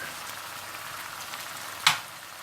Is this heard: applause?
no